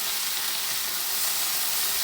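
Kale frying in a hot pan with a teaspoon of soy sauce just added, giving a steady, loud, hissing sizzle that fills the whole moment without any voices.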